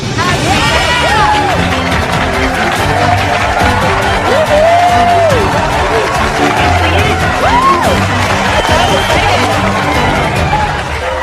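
Family and friends cheer contestants in the MasterChef kitchen, a loud continuous crowd of whoops, shouts and excited chatter that swells throughout with no pause.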